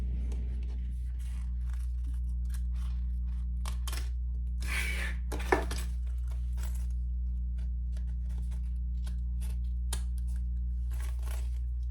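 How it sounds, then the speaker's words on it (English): Scissors snip through excess fabric zipper tape in a series of short, sharp cuts at an uneven rhythm, close and clear over a steady low hum. "cut off your excess zipper tape."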